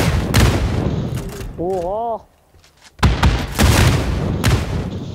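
Explosions and bursts of gunfire in the battle royale game PUBG New State, loud booming blasts near at hand, a brief near-silent gap midway, then another heavy barrage, with a voice exclaiming over it.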